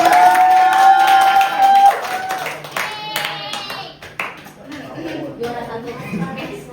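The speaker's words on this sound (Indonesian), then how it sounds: "Boleh beri tepuk tangan dulu." A group claps hands together while voices and cheering rise around them, loud and close at first, then thinning into scattered claps and chatter.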